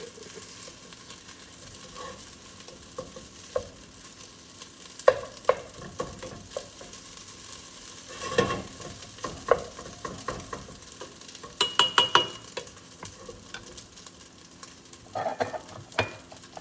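Chicken fried rice sizzles loudly in a very hot pan while a utensil scrapes and stirs, a steady frying hiss punctuated by sharp irregular clacks and scrapes.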